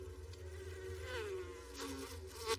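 A bee buzzes in a steady, wavering drone that rises and falls in pitch, close and fairly quiet, in an action film scene with no talk over it.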